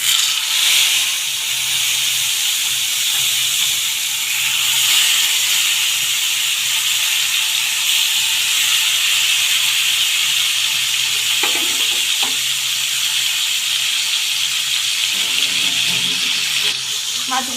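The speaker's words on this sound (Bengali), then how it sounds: "এবার তেল গরম হয়ে গেছে, দিয়ে দেবো মাছগুলো।" Koi fish frying in hot white oil, a steady loud hiss and sizzle running throughout with a few small crackles and knocks.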